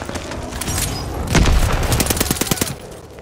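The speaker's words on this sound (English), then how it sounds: "hostiles are strafing us!" Call of Duty Vanguard battle noise: a heavy explosion booms midway through bursts of strafing gunfire, with rapid machine-gun shots rattling close and loud before fading slightly.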